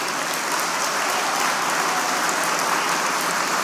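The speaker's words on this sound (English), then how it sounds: "give them a round of applause" Steady, dense applause from a crowd at a SkillsUSA Pennsylvania opening session, loud and continuous throughout with no pauses or voices.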